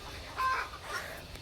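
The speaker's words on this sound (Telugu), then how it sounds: "మీకు కోళ్ళ సౌండ్ వస్తుంది కదా" Chickens in poultry sheds cluck faintly at a distance, a couple of short soft calls over quiet outdoor background.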